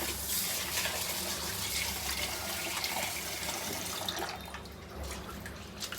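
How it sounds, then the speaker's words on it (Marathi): Rice being washed in a pot of water, a steady splashing, trickling wash with small drips, fairly close and continuous, easing slightly toward the end. "आता आपण पाण्यामध्ये थोडं तांदूळ धुवून घेऊया."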